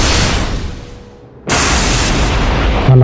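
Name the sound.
lightning fire arrow exploding, sound effect in audio drama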